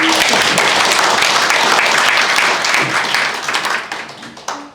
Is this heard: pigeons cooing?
no